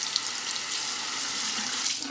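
Running tap water pours steadily as a shavette razor is rinsed under the faucet, a close, continuous broadband hiss and splash filling the whole short stretch at even loudness.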